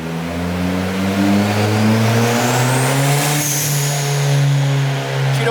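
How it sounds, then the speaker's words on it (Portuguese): A turbocharged Ford Focus engine drones loudly and steadily as the driver lifts off the throttle into vacuum, its tone slowly falling as revs drop, with no talking. "Tira o pé, vai totalmente pro vácuo, ó."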